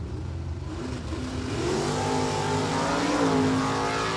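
NHRA Super Stock drag racing cars, including a 1985 Ford Mustang automatic, launch with a deep, loud engine roar that swells and rises in pitch as they accelerate away.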